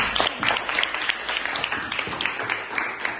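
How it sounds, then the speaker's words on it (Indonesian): A classroom of students claps together at the close of a science lesson on separating mixtures, a dense, steady patter of many hands lasting a few seconds with no talk over it. "tepuk tangan untuk kita semua"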